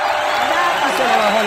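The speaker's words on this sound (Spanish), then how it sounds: "¡Fuerte el aplauso, Dani!" Crowd applause and cheering at a lively Spanish-language show, a dense steady roar of clapping and shouting voices that holds at full strength throughout, with people talking and calling out over it.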